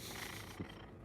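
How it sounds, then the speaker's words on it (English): A pet cat named Simba purrs steadily close by in a quiet indoor room, a soft continuous low rumble with one brief louder thump partway through. "Cat is purring in the foreground."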